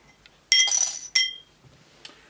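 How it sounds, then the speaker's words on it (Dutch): During a magic trick, a coin is struck through a drinking glass, giving two sharp, bright glassy clinks about half a second apart, each ringing briefly, with no voices and little else around them. "De munten kun je eventueel pakken. En dan zo door het glas inslaan."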